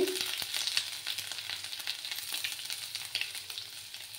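Grated ginger drops into hot oil in a pan, bringing a soft close sizzle with a quick burst at the start and light irregular crackles and stirring clicks after it, fairly quiet and without talk.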